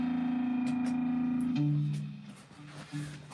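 Electric guitar played dry without reverb, a sustained distorted note that shifts to a lower pitch, then a few shorter picked notes trailing off, close and clear with no voices.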